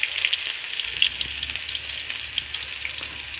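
Chopped onions hit hot oil in a wok and fry with a steady, close crackling sizzle, a few sharper pops scattered through, alone without any voices.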